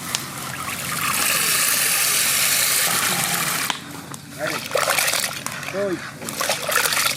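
Lentils being rinsed in water in a Bengali village kitchen, with steady splashing and sloshing for a few seconds, then softer trickles and dribbles amid a voice speaking close by.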